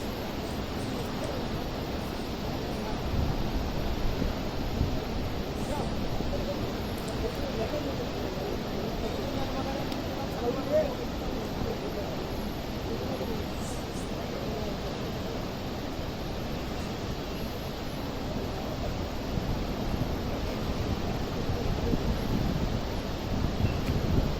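Jog Falls waterfall roars as a steady, broad wash of noise that fills the whole stretch evenly, constant and loud without breaks, like heavy wind or surf.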